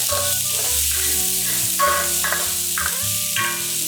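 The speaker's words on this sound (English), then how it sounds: "Add 3 tablespoons chopped ginger, 8 cloves chopped garlic, 3 green chilies halved lengthwise, and saute for 1 more minute" Chopped ginger, garlic and halved green chilies sautéing in a hot pan, a continuous close sizzle with stirring scrapes and clatters over a low background hum.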